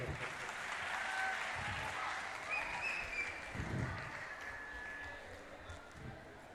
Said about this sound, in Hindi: आप लोग तालियों से स्वागत करें।